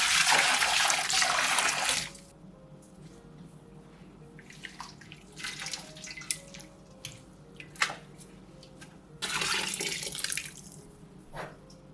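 Calendula flower dye liquid poured into a dye pot for dyeing wool yarn, with a loud gushing pour at the start, quieter trickles and splashes in between, and a second strong pour near the end.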